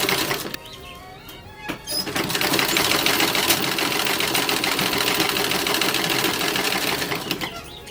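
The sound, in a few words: sewing machine stitching sleeves into a toddler dress bodice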